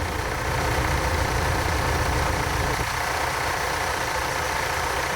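A VW T3 with a 2.1L engine idles steadily, a continuous close rumble with an even mechanical clatter and no talking.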